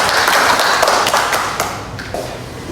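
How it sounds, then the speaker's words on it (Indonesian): A classroom of students clapping for a classmate's answer during a school lesson, a short round of close hand claps with distinct individual slaps that tapers off quickly. "Kasih tepuk tangan."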